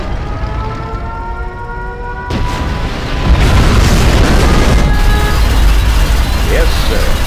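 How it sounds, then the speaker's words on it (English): A nuclear missile launches and detonates in the strategy game Command & Conquer: Generals. A loud, sustained roaring rumble swells after a sharp onset, building into a heavy, continuous blast that overlays a softer tonal backdrop at the start. "Nuclear missile launched."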